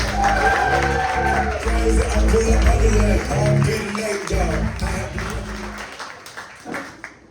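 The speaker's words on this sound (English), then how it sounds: "Give a big round of applause for Dorian Gayle, everybody." A comedy club audience applauds and cheers for a comedian, a loud crowd wash under music that fades out toward the end as talk begins.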